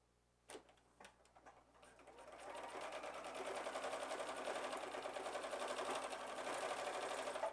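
A sewing machine stitches a fabric basket: a couple of sharp clicks first, then a close, steady, rapid whirring of needle strokes that builds and runs to the end.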